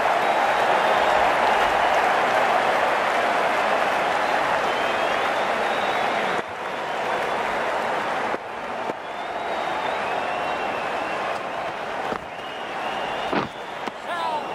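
Simulated stadium crowd from the cricket video game Cricket 19 applauds and cheers in a sustained loud wash during an Australia versus USA match, dipping slightly with a few sharp knocks toward the end.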